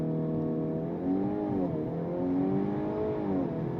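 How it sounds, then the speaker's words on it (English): A 2026 VW Golf R hatchback engine held at high revs in launch control, droning loudly with a slight dip and rise in pitch as it strains at launch. "Now with my foot firmly on the brake, pin the throttle."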